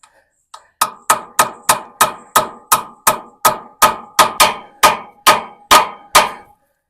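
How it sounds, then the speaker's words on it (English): A 1962 Massey-Ferguson 35 Super Deluxe tractor part is struck with a hammer in a steady run of about fourteen sharp, ringing metallic blows, evenly spaced and close, preceded by a couple of lighter taps, with no talk. "You'll have to take a hammer and try to beat that thing on there."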